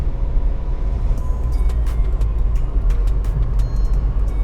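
Skoda Kushaq SUV engine on the move, a steady low droning hum with road and tyre rumble, heard from close by, continuous and fairly loud with faint ticks and rattles over it.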